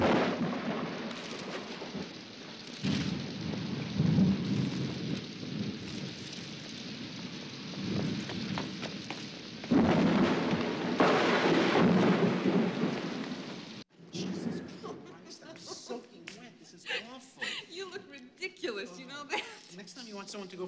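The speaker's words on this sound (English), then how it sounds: "Oh, thunder scares me." Heavy rain and rumbling thunder during an electrical storm in Central Park, a loud continuous downpour with swelling rolls, ending in scattered drips and sharper crackles.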